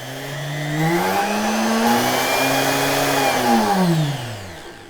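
A variable-speed rotary shaping tool motor with a foot control whirs up to a higher pitch, holds a steady loud drone, then winds back down, close and alone without speech.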